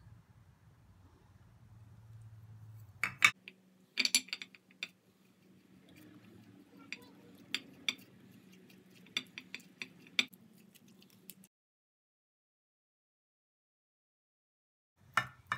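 A spoon scrapes and clinks around a small bowl, stirring honey with raw milk into a thick paste, with scattered sharp taps against the rim over a low steady rub, then stillness.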